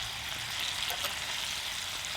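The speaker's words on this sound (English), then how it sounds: "Now when it comes to frying up green beans, once they shrivel up and they darken, that's when they're done." Green beans frying in a pan at a mountain camp, a steady hissing sizzle with faint crackles, moderately close and without talk.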